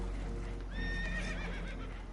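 Spooked horses neigh in Red Dead Redemption 2, a few sharp whinnies rising over a steady low rumble of a boat taking on water, with faint hoof clatter.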